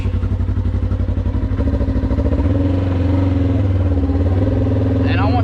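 A Polaris RS1 UTV on 32-inch tires, without a clutch kit, drives up a road, its engine close and loud with a rhythmic throbbing pulse that rises in pitch as it accelerates, mechanical clatter riding on top.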